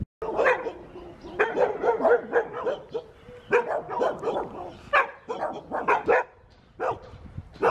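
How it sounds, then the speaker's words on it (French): Several dogs greet visitors in Virieu with repeated sharp barks and yips in irregular bursts, some close and fairly loud, with a voice faintly audible between them. "on se fait accueillir par les chiens"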